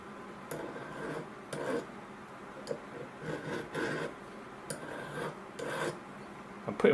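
A hand file works a small metal collet in short, quiet rasping strokes, repeated in an irregular rhythm with soft clicks between them.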